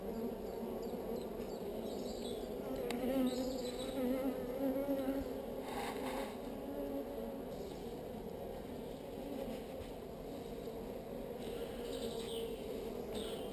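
Honeybees hum in a steady, close swarm around an open hive while queens are spotted and marked, with faint birdsong drifting in from the distance and no talking.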